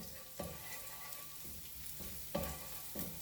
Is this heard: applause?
no